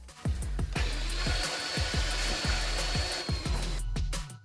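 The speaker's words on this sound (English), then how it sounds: "Rebar bending machines are strong, durable, and easy to use." A rebar bending machine runs at a construction site with a steady loud mechanical hum and a regular series of low thumping knocks, continuous and close.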